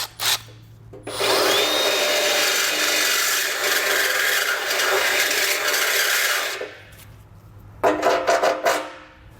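Power drill enlarging a bolt hole in the frame of a 2013 Ford Explorer during a base plate installation, one loud sustained grinding run of about six seconds, then a few short bursts near the end.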